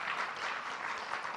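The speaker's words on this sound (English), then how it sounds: "I'd like to have a big round of applause for our entire panel." Audience applause for a conference panel on AI and Oregon small businesses, a steady, even wash of clapping filling the room for the whole stretch with no voices over it.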